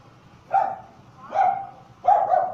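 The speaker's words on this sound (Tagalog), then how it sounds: "tinatahulan ako ng aso" A dog barks three times at fairly even intervals, close and clear, with no talking.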